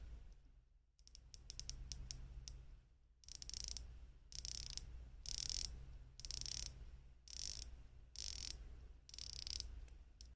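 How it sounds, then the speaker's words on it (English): A Baltany S3080 watch's 120-click unidirectional bezel is turned in short bursts of fine, rapid ratcheting clicks, quiet and close, separated by brief pauses. "So it is a 120 click unidirectional bezel."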